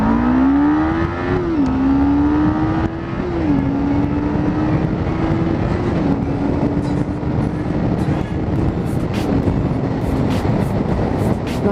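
A used Kawasaki Ninja 500R motorcycle accelerates hard through the gears, its engine pitch climbing and dropping at each of several upshifts, heard from the rider's position with heavy wind rush throughout and no talking.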